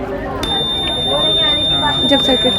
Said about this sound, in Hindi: जब सर्किट फुल हो जाएगा तो ये ऐसे अलार्म बजेगा इसमें।